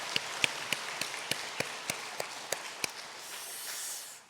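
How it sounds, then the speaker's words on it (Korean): A church congregation claps together in an even rhythm, about a dozen sharp, distinct claps at a steady pace, moderately close, followed by a soft murmur at the end. "우리 박수 한번 하겠습니다."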